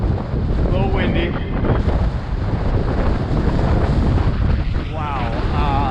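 Wind buffeting a microphone while cycling through New York City, a loud continuous low rumble of gusts that nearly covers a voice talking underneath.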